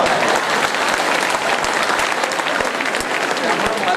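Dense, continuous applause from an audience at the Aakar Yashotsav event during a UPSC success-story talk by Ramesh Gholap, steady and loud from start to finish.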